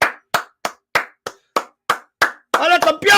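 Hands clapping in a steady series of nine sharp, close claps at a boxer's home pad session, followed by a voice speaking.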